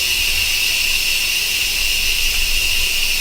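Hot steam hisses steadily from the release valve of a pressure cooker, a continuous loud, even rush that holds without pause the whole time.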